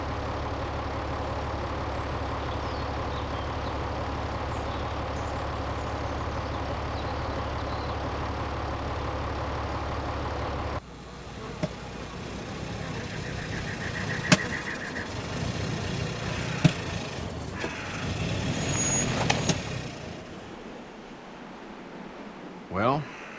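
A truck's engine rumbles low and steady through a ride in The Walking Dead game, then it slows with hissing air brakes, sharp clanks and shifting noises before a voice speaks at the end.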